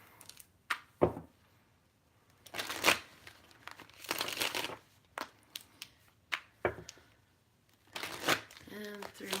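Tarot cards being shuffled by hand up close, irregular papery riffles and slaps in short bursts with quiet gaps between them, a faint voice underneath.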